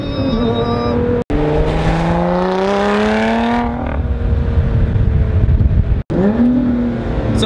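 A powerful supercar engine revs hard and climbs in pitch, with sharp cuts at gear changes before surging again, loud and close.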